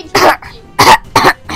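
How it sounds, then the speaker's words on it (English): A chesty cough comes in three loud, harsh bursts close to the microphone, the first and the last two separated by short pauses. "I've just got a really chesty cough right here."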